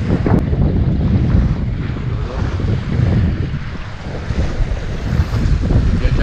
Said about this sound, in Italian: Questo mare.